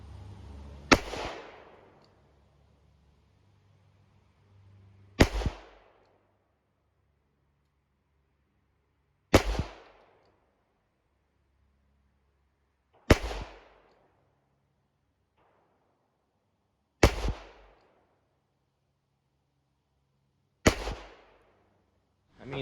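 Six sharp .38 Special revolver shots at a shooting range, spaced about four seconds apart, each a loud close crack with a short decaying tail, no talking between them.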